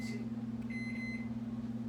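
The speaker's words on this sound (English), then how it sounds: "I'm gonna microwave mine for 3 minutes" A microwave oven runs with a steady low electrical hum and a faint higher whine, continuous and fairly close, with no voices.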